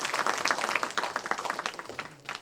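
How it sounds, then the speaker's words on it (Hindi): Audience claps for a speaker at a youth parliament event in Udaipur, moderately quiet, rhythmic hand claps with a distinct, slightly uneven beat, fading toward the end. "उनके लिए एक जोरदार तालियों के साथ हम उनका अभिनंदन करते हैं।"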